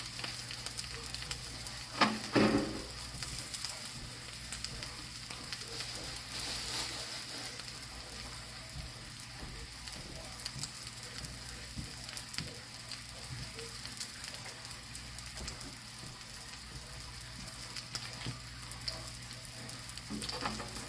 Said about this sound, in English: And let that get brown and a little crispy on that side